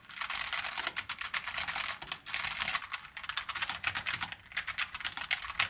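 Rapid typing on a Logitech K915 wireless low-profile keyboard fitted with gaskets under each key, producing a dense, continuous patter of close, crisp key clicks with brief pauses and no voices.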